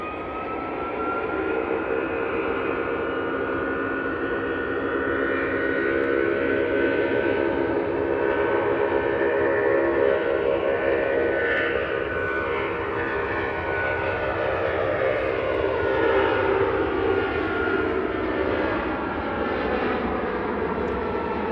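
Ryanair airliner on final approach at Manchester Airport, a steady loud jet engine roar with shifting whine tones sustained throughout, no voices.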